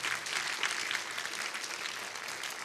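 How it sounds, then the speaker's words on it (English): An indoor audience at a 2022 university convocation for the School for Cultural and Social Transformation claps for a graduating group, a dense, sustained burst of applause that stays loud and even throughout. "So please applaud this group."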